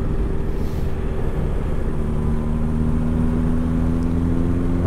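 Honda CB1100 motorcycle engine pulling hard in third gear, a continuous loud drone with rising harmonic tones and heavy wind rush throughout.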